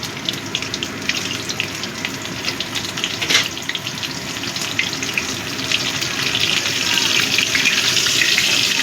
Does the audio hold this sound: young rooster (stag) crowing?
no